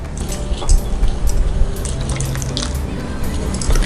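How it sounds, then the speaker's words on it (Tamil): Water poured from a tumbler into mashed ripe mango pulp in a pan for mango halwa, a steady wet splashing and dripping close up, continuous and fairly loud with no talk over it. "இன்னும் ஒரு 1/4 டம்ளர் அளவுக்கு தண்ணி விட்டுக்கலாம்"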